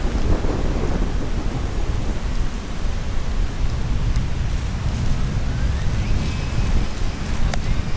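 Strong wind gusts through a rainstorm at a university campus during an RC crawler outing, a dense, steady roar of wind and rain with low thunder-like rumble filling the whole stretch, no voices heard.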